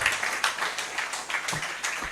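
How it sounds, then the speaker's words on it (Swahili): Congregation applause at a night praise service led by an apostle, a steady wash of many hands clapping together, moderately loud and continuous throughout with no clear pauses. "Simumpigie Yesu makofi."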